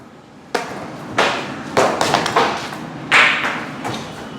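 Several sharp slaps of a hand land on a thin foldable car cover at irregular intervals, each giving a brief rustling thud that fades quickly. No one speaks.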